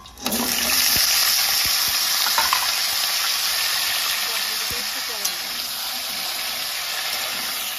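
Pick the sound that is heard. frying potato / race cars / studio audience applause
frying potato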